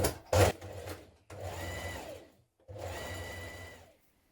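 A sewing machine understitches a pocket seam on a summer dress in three runs: a short burst, then two longer steady stretches separated by a brief stop. No one speaks.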